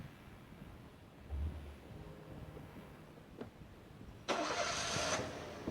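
A car engine starting in the horror video game Evil Nun: a short low thump, then a sudden loud broadband burst as the engine catches and runs steadily, with quiet ambient rumble before.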